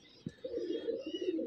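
An old home-bred pigeon from a pure bloodline gives a soft, low coo, preceded by a faint tap, heard close and quietly with no talking.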